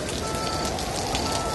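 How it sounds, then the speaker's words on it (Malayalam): Heavy rain in an animated cartoon, a dense steady hiss of downpour on surfaces that stays constant and fairly loud throughout, with no voices. "ഒരു ദിവസം കനത്ത മഴ പെയ്തു."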